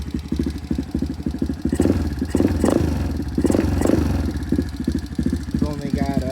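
A 2004 Kawasaki KLX 110 pit bike engine, freshly rebuilt and running hot, rattles and revs close by with a choppy, pulsing exhaust and a few sharper rev bursts.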